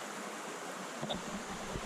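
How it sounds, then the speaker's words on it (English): A Highland burn trickling down a steep bank near Killiecrankie, a steady soft wash of running water that stays fairly quiet and continuous, with a couple of slightly louder splashes near the end. "So the burn trickles on down, goes down there"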